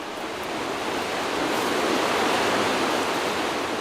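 Rapids on a wilderness river rush and churn in a dense, continuous roar that swells slightly, with no voices over it.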